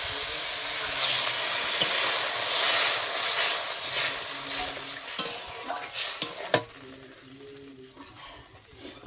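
Water from ground spices poured into a hot frying pan for a thin egg curry with potato, aubergine and tomato, a strong hissing sizzle with stirring that gradually fades, then a sharp clank of utensil on pan.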